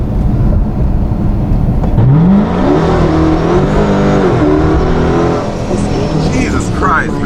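A procharged 426 Scat Pack launches hard with the tires spinning, its engine note sweeping upward into a loud, close roar over several seconds. A brief squeal follows near the end, and a voice speaks over it.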